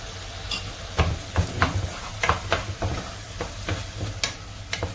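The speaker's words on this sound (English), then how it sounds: "So we will saute this for about 5 minutes." Pizza sauce ingredients sauté in butter in a pan, with a steady low sizzle under a series of sharp scraping stirs from a utensil, close and moderately loud.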